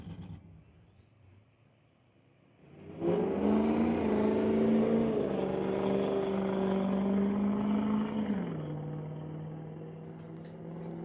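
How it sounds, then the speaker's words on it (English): A 2010 Chevy diesel pickup and a Ford F-250 launch in a drag race at Mission Raceway Park, a loud engine roar rising abruptly after a quiet idle and holding steady for several seconds before easing back to a lower drone. "Diesel pickup charging after Monroe."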